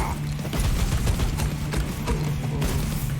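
Rapid gunfire from a Warhammer 40K Orks video game, a dense continuous stream of crackling shots with mechanical clatter, fairly quiet and steady throughout.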